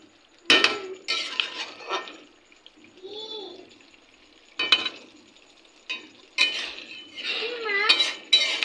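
Meat curry stirred in a pot during evening cooking, with intermittent scraping and clinking of a spoon against metal in short bursts, mixed with children and adults talking nearby.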